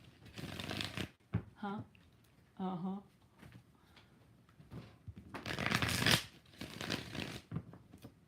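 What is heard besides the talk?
tarot cards being shuffled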